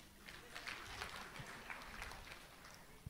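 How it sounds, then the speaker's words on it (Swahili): An audience applauding at a talk honouring a bank board chair, a faint, distant wash of clapping that runs steadily throughout with no voices on top. "makofi tafadhali"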